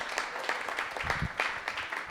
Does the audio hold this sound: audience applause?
yes